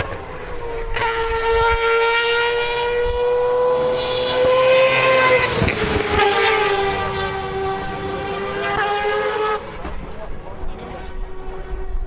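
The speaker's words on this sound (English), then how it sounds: "That's what the sound of a rotary engine at probably 8/10, 7/10 sounds like going through the Porsche curves" A rotary-engined race car screams through the Porsche curves at a racing circuit, a loud, high-pitched tonal wail that climbs as it approaches and then drops as it sweeps past and fades, with talk alongside.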